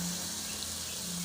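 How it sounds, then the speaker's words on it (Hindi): Water poured from a cup into a cooking pan of keema with peas, a short steady splashing pour lasting about a second, close and fairly even with no talk. "अभी साथ ही साथ इसमें मैं डाल दूँगी 1 कप की जितना पानी,"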